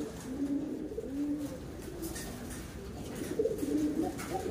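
Racing pigeons coo repeatedly in a loft, a few soft, low throaty calls rising and falling over steady background noise, close by and moderately loud, with no talking.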